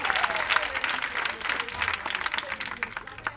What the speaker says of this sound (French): Applaudissez pour les dames.